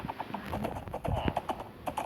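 Horse hooves clip-clop in a rhythmic series of close, crisp steps in the Minecraft video game, moderately loud with no talk over them.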